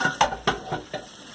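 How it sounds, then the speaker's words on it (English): Refried beans being mashed in a pan with a potato masher, four quick rhythmic squelching thumps close up over faint frying, no voices. "And mash it with the potato"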